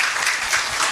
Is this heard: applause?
yes